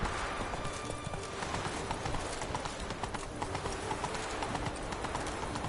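Horse hooves clip-clop steadily at a walk in The Witcher video game, a continuous rhythmic clatter over an ambient game soundscape, with a faint whinny possible and no talk.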